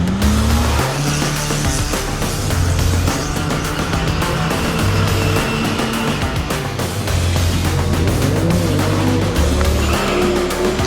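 Drag racing cars run at Santa Pod Raceway during a street-car drag and drive event, with a loud, continuous engine roar and revving that fills the scene close up, along with hints of tire noise.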